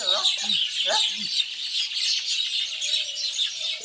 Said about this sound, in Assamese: এয়া চৰাই আহিছে, তেওঁলোকৰ খাদ্য লৈছে আৰু উৰি গুচি গৈছে